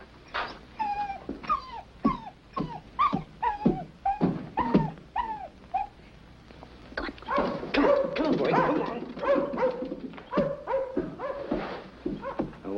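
A rat-hunting dog gives a run of sharp, close yips and whimpering barks, then a longer, busier burst of excited vocalizing.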